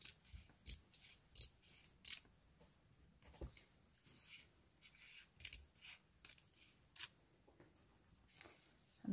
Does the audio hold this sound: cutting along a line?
yes